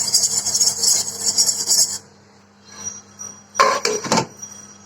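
A metal lid clatters onto a pot of simmering kunafa syrup, giving a few sharp close clinks after a stretch of sizzling boil.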